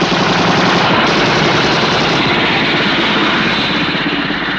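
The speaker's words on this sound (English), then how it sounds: "Destiny Angel, helicopter A42 is firing at me" A hostile helicopter strafes with machine gun fire, a dense, loud, continuous rattle of rapid shots blended with the roar of the rotor and engine, sustained without pause and with no speech.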